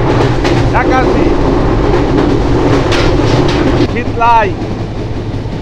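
Banalata Express, a Bangladeshi intercity passenger train between Chapai Nawabganj, Rajshahi and Dhaka, racing along at around 80 km/h: a loud, constant rolling rumble and wheel clatter from onboard, with someone briefly speaking over it.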